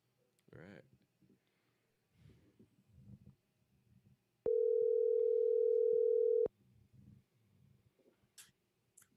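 A steady telephone dial tone sounds for about two seconds while a phone call is being placed, cutting off abruptly, with a voice talking before and after it.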